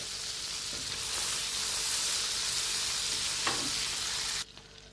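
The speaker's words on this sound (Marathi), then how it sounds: "बटर मेल्ट होऊ द्यायचे" Butter melts in a hot pan, giving a steady, close crackling sizzle with occasional pops, then cutting off abruptly near the end.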